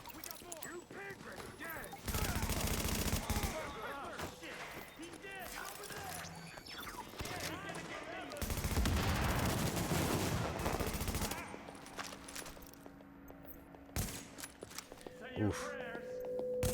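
Police M4 rifles and shotguns firing in The Division, with bursts of heavy gunfire and rapid automatic fire across the stretch, loud and close, under a talking voice and game noise.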